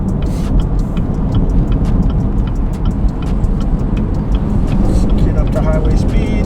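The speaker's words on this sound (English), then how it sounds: "So the car's really quiet now." A Chevrolet Camaro ZL1, a 2017-or-later car with a Stage 4 build, cruises at low speed on a road with a steady, fairly loud engine and road rumble throughout, under a voice talking.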